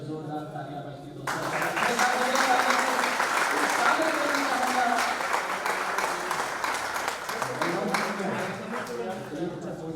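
Loud, sustained applause from an audience at a gathering of blind musicians bursts in after a second and keeps rolling steadily to the end, with a voice speaking over the clapping.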